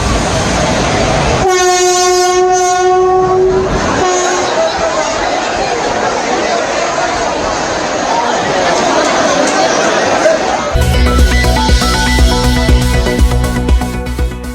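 A train sounds a long horn at a crowded railway station, then its wagons rumble and clatter past, loud and close, over the steady murmur of a large crowd of passengers.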